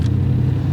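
A Porsche 718 Boxster S with a 2.5 engine and an enhanced exhaust gives a brief, loud, low steady burble, heard alone.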